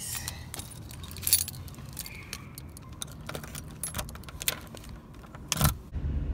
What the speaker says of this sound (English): I would drop my keys.